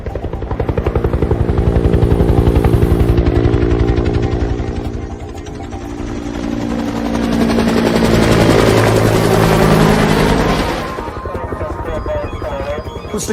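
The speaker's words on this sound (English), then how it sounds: "Who's the cowboy in the chopper?" Helicopter flying overhead in a movie, a loud rapid rotor thump swelling, easing and swelling again as it passes, dense and constant throughout.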